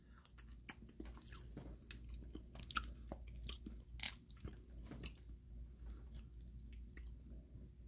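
Someone chews a bite of Sicilian-style pizza right at the mic, with repeated moist crunches and clicky bites over a low steady hum and no talking.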